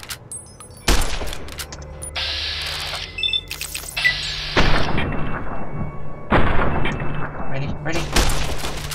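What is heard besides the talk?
gunfire in the video game Fallout: New Vegas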